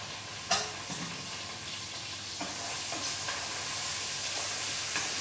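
Half a kilo of large chicken pieces being stirred in a cooker for yakhni pulao over a low flame, a soft continuous sizzle with a few scraping knocks, no voices.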